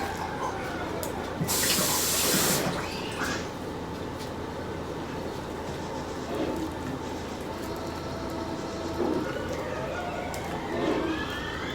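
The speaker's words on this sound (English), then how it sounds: "Rinse it. Rinse your plastic." Tap water runs steadily into a sink as plastic is rinsed in a home kitchen, with a brief louder gush of spray early on, then a constant splashing flow.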